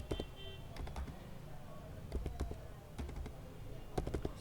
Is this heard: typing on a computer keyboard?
yes